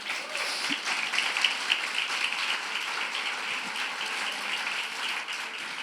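A church congregation applauds in a steady, even wash of clapping from many hands, moderately loud and continuous throughout.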